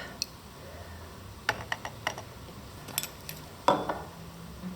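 Several light glassy clinks and taps as a few drops of indicator are stirred into hydrochloric acid, scattered irregularly over a faint background hiss, close and fairly quiet.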